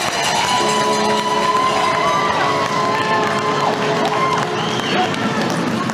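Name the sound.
crowd cheering at college hockey game rec center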